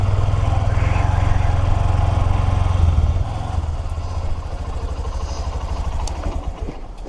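Loud, rumbling motorcycle engines drone nearby on a road in the Peak District, then ease slightly as they pass, with no one talking.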